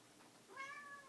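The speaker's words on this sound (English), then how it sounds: "Excuse my cat back here." A house cat meows once in the background, a short rising call with clear harmonics, heard fairly close in a quiet indoor room.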